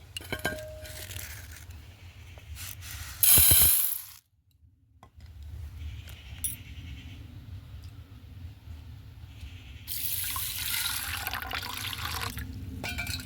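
Lentils are washed by hand in a large vessel, with water sloshing and splashing, a brief loud pour, a short pause, then a steady rush of water and occasional clinks.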